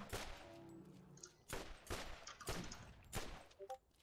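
Gunfire in the video game Borderlands: a series of sharp, separate shots fired a few at a time with short gaps, loud and close, no talking.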